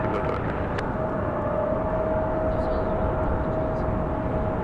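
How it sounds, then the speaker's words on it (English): A United Express CRJ 550 regional jet at Raleigh-Durham airport gives a steady, heavy rumble with a faint whine, continuous and moderately distant. "Here's our CRJ 550, the United Express."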